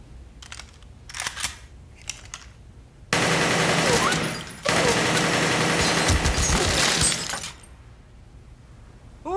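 Loud, rapid automatic gunfire from an AK-47 assault rifle in sustained bursts, with a short gap between them, preceded by a few sharp clicks and handling noises.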